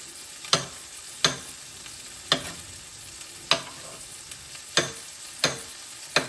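A steak frying in a pan in a home kitchen, a soft continuous sizzle with sharp periodic pops and crackles spaced about a second apart, no talking.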